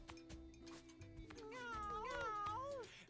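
Cat meows from the Mewgenics game ring out clearly, a series of rising and falling mewing calls over a steady low background tone, close and moderately loud.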